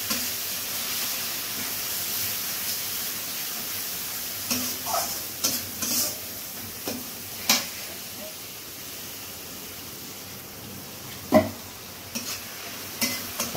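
Spiced masala being sautéed with a little water in a pan for a soybean muitha dish, a low steady sizzle punctuated by scattered sharp clinks and scrapes of a spatula against the pan, no voices.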